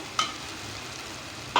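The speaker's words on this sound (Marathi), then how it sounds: "असं छान वाटण परतून घ्यायचं तेल सुटेपर्यंत।" Thick ground masala paste sautéing in oil in a home kitchen, with a soft steady sizzle and two brief scraping stirs of the spoon, one near the start and one at the end.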